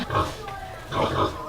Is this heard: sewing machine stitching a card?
no